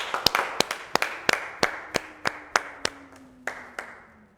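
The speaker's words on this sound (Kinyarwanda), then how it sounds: "amashyi menshi cyane" People clap at a family reunion gathering, giving a slow, regular run of about a dozen sharp, distinct claps rather than a dense roar, with a faint steady tone underneath.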